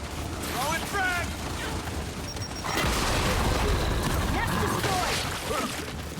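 A frag grenade bursts inside an enemy nest in Gears 5, a booming blast amid ongoing game gunfire and mechanical clatter, with a player talking over it.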